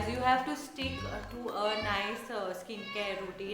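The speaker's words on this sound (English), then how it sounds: "That's my cat." A house cat meows a few times, its wavering calls tangled with someone talking over them.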